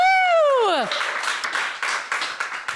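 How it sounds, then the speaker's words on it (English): A live studio audience at the New Town Theatre applauding, a burst of clapping and cheering that follows a loud, falling whoop and then continues in uneven waves. "Round of applause to the studio audience."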